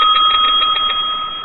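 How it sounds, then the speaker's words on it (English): A hand bell rung repeatedly in a quick run of bright, high metallic strikes with a steady ringing tone, loud and close, with no talk over it. "You always called it the inappropriate bell."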